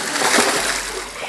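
Water splashing onto people outdoors on a sunny day from a water bag, a loud wet splatter with a brief spray lasting about a second, no voices over it.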